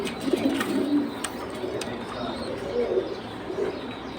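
Pigeons coo softly in a busy Bangladeshi pigeon market, low throaty calls repeating under a murmur of crowd noise and occasional sharp clicks.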